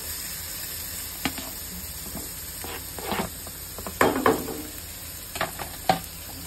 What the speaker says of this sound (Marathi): छान बटर मध्ये कांदा परततोय